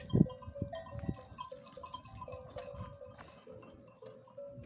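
A flock of sheep with bells: the bells ring on and off throughout, a few bleats and thuds come early, and the herd sounds close.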